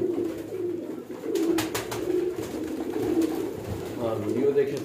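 Pigeons in a breeder setup coo steadily and close by in low, rolling, overlapping calls, with faint indoor background noise throughout.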